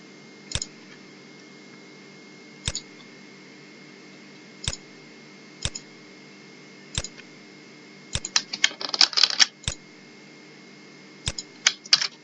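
Keys clacking on a computer keyboard in short, sparse bursts of a few strokes each, with a rapid flurry of typing near the end, close and fairly quiet over a steady low hum.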